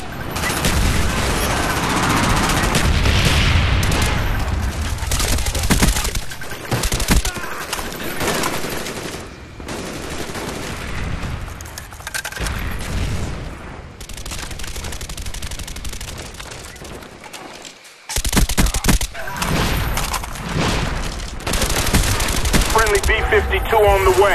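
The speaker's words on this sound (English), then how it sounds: "Napalm strike coming in." Napalm strike explosions in the video game Super Commando 3, a dense, loud barrage of blasts and rapid gunfire rolling continuously, with one brief dropout before the roar resumes, and a game voice heard amid the chaos.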